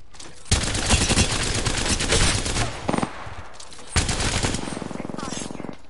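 Rapid automatic gunfire in the battle royale game Apex Legends, loud bursts of fast repeated shots with short pauses between volleys.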